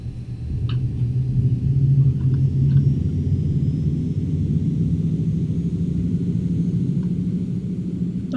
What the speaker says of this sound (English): It's always loud in this plane.